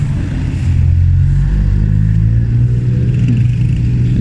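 Honda Click automatic scooter engine while riding near a market street, a loud, steady mid-pitched hum with slight rises and falls over a few seconds, close up with road noise.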